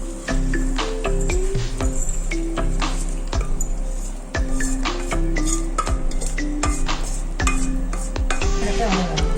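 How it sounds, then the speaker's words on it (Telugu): A spoon stirs tempering through grated raw mango rice (pulihora) in a pan, giving repeated scraping clinks against metal at an uneven rhythm, close and fairly loud, over a soft sizzle. "తాలింపు వేసుకొని కలుపుకోవాలి."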